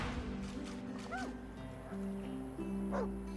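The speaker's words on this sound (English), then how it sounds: "The dog focuses at the cat at your feet, baring its teeth and growling." A dog in the video game Divinity 2 gives a couple of short barks and a whimpering whine over a steady low game ambience and music drone.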